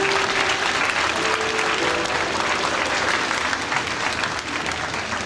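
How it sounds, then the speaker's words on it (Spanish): Steady applause from a church congregation at a Feast of Tabernacles service, a continuous wash of clapping at moderate volume lasting several seconds. "mientras les despedimos con un aplauso a aquellos que pueden aplaudir"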